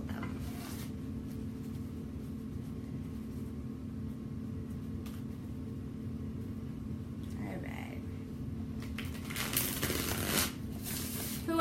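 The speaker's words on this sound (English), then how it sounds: "Let's shuffle them. Let's see how they feel when we shuffle them." A Wild Wood Tarot deck is shuffled by hand, quiet riffling and sliding that grows more distinct near the end over a low room hum.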